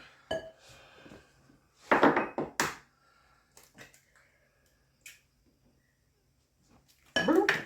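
Eggs cracked against a mixing bowl while making graham cracker chocolate chip cookie dough in a kitchen, a few sharp close knocks and clinks of shell on bowl, separated by quiet gaps.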